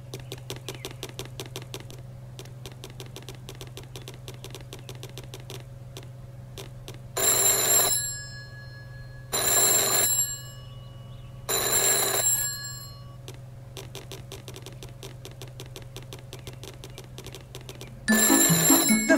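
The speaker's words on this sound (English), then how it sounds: "phone is ringing. I wonder who is calling." An old-style telephone bell rings in three loud, evenly spaced bursts over a steady low hum and faint ticking, with a fourth ring starting at the very end; no one speaks.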